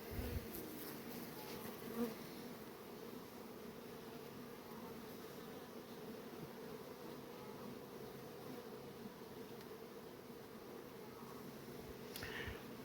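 Honeybees in a nucleus hive, with all frames lifted out and a dense cluster holding a queen newly back from her mating flight, make a steady, close, continuous buzzing hum with no talk.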